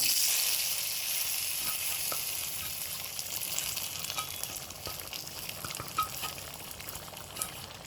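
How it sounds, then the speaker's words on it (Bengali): Spinach dropped into dal and frying over medium-high heat, a steady bright sizzle that starts loud and eases slightly, with occasional scrapes and taps of stirring and no talk. "পালং ডালের মধ্যে ছেড়ে দিলাম"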